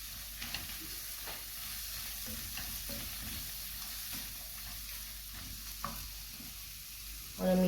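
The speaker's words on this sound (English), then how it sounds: "Now we will add 1 finely chopped onion. We will saute it." Finely chopped onion sautéing in a pot over a medium flame while lentils are being cooked, with a steady soft sizzle and scattered scraping stir sounds, close and without speech.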